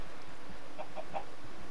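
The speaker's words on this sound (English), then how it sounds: "point out all those chickens that you heard." A pile of Minecraft chickens packed into a two-block square gives three short clucks in quick succession over a steady background hum, moderately near, with no talk.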